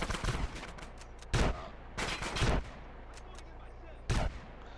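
Gunfire in the GTA San Andreas video game comes as several loud separate bursts of shots spaced a second or two apart, over a low background hum.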